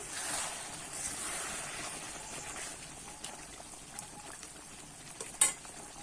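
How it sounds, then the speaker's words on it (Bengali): Bhetki fish curry is stirred in a pan, giving a soft, steady sizzle and scraping that fades a little over time. A sharp utensil knock comes near the end, with no speech. "এবার একটু নেড়ে নেব"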